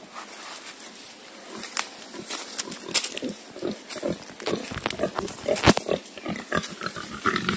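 Wild boars tethered outdoors among water plants give repeated low, rough grunts and snorts at close range, irregular and fairly steady throughout with no talking.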